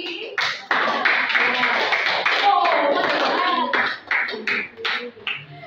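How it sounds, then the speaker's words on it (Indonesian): Classroom students clap in a short burst of hand clapping during a lesson, uneven and close, with voices talking and calling out over it as it tapers off. "tepuk tangan untuk si"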